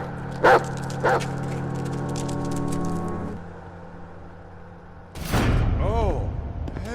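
A dog barks twice in the horror video game Layers of Fear, two sharp close yelps early on, later followed by a louder burst of noise and a voice.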